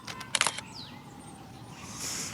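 A Nikon Z5 camera shutter fires once, a quick close double-click of mechanical clatter, followed by faint electronic whine and quiet room tone.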